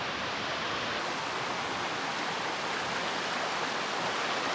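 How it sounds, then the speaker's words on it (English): Wolf Creek, a mountain stream crossed by a hiking trail on the Continental Divide, rushes loudly in a constant, dense roar of flowing water with no voices over it. "That's Wolf Creek. That's the next stream to cross."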